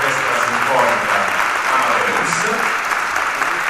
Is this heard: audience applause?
yes